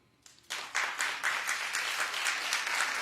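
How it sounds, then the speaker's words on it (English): Enthusiastic applause from a television talk show studio audience begins after a brief pause and continues steadily, a dense wash of many hands clapping with no talk over it. "Clap if you believe her."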